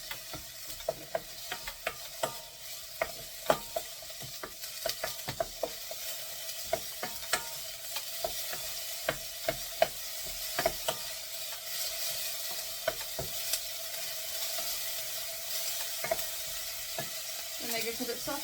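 Chopped onion softening in a little oil in a pan for sweet potato and rosemary soup, a steady close sizzle broken by frequent sharp clicks and scrapes of stirring.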